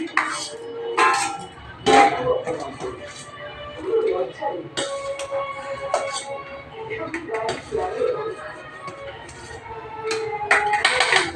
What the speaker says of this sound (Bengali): আগে ভাতটা বেড়ে দিয়ে নি আমরা একটু ছোট ছোট থালায় ভাত খাই